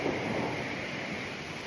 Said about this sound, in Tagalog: Kampas ng alon.